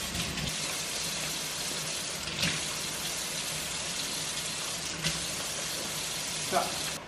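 Steady stream of water running into a cooking pan while preparing Mexican burritos, a continuous close hiss and splash with a few brief clunks, no talking.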